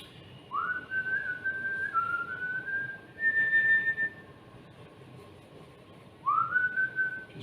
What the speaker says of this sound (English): if you can't sing and whistle in the kitchen, where can you sing and whistle?